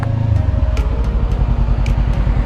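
A Yamaha R6 sport motorcycle with a stock-sounding engine passes close by, a loud, buzzy engine note with rapid pulsing and brief higher revs over a couple of seconds, with no speech.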